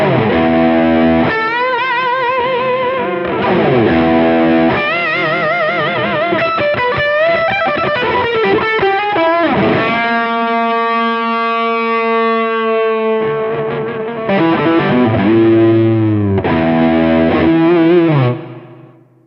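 Electric guitar through a Kernom Ridge overdrive pedal with tone controls down and mids boosted, giving a boomy, distorted sound with effects-laden, wavering sustained notes and chords, loud and continuous with no talking.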